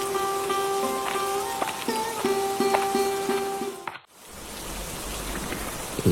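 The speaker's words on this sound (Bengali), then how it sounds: "সে সকাল থেকে এক নাগাড়ে বৃষ্টি নেমেই চলেছে" Steady rain falling without a break, a constant close hiss with tonal lines running over it for the first four seconds, a brief dip, then the downpour continuing on its own.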